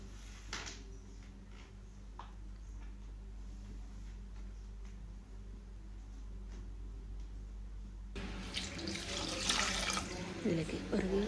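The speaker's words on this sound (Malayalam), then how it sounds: "ഇതിലേക്ക് ഒരു ഗ്ലാസ് വെള്ളം ഒഴിക്കുക" A glass of water pours into a pot of pumpkin curry, a steady splashing rush that swells and brightens in the final few seconds against a low kitchen hum.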